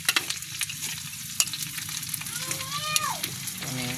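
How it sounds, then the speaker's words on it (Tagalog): Garlic and onion sauté in a pan for pancit, with a close, steady sizzle and stirring clatter and a brief voice-like tone near the end. "Kaya na ko gigisa dire nga kanang ahos o sibuyas bombay."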